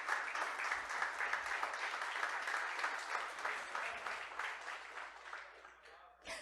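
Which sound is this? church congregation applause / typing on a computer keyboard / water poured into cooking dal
church congregation applause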